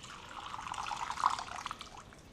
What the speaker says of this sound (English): Just top the water up as needed.